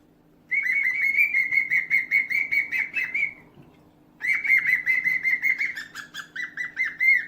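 A pet cockatiel whistles and chirps in two long runs of rapid, piercing bird notes, close and loud, with a short pause between bursts and a faint steady hum underneath.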